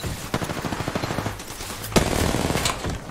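Rapid automatic gunfire in Apex Legends, a fast rhythmic burst of shots followed by a second, denser volley, close and loud with no talk over it.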